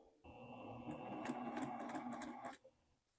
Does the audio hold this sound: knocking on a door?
no